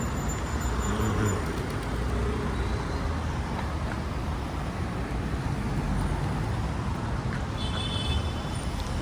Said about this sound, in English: you'll hear a lot more noise from the street